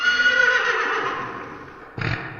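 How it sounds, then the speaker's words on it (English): The Brook Horse, a wrathful water-dwelling beast in the video game REANIMAL, gives a drawn-out whinnying neigh that fades over about two seconds, then a brief rougher burst of snorting noise, with no talk. "The Brook Horse. A territorial, albeit wrathful beast inhabiting the waters of REANIMAL's world."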